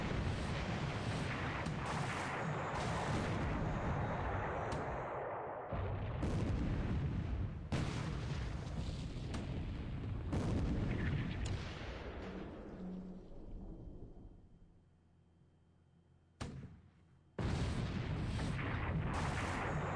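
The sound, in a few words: 8-inch shell hitting light cruiser Yura, War in the Pacific video game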